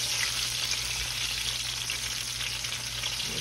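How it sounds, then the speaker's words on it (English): Fried hand pies cook in hot oil, giving a steady, close, dense sizzle and crackle that runs unbroken throughout with no talking. "Fried hand pies, y'all. Put them in the oil here."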